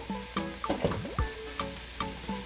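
Beans and carrots cooking in a pot, with a soft sizzle under repeated clinks and scrapes of stirring, each stroke giving a short knock at a fairly even rhythm.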